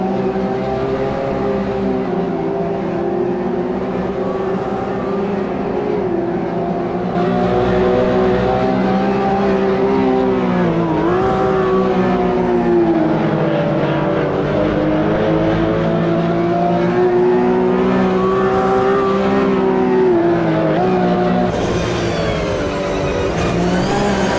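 A race car in Automobilista 2 runs off the track during a Grand Prix, its engine droning loudly and steadily with wavering pitch, easing and swelling as it slides along, with no voices over it.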